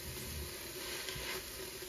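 Spices sizzle steadily in oil inside an Instant Pot, a continuous quiet hiss and crackle with no talking.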